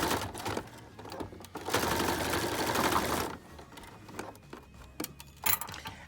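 A sewing machine stitches a pleated fabric face mask in several bursts, with one long steady run in the middle and shorter stop-start runs around it, close and clear with no talking.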